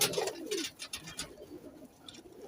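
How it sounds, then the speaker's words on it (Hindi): Pigeons of a golden breed coo in a loft, a few soft, low rounded calls close by with faint chirps and rustling, no voices. "माशाल्लाह बहुत अच्छे कबूतर है दोस्तों"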